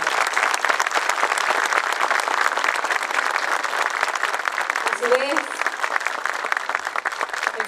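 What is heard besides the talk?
strong audience applause at school ceremony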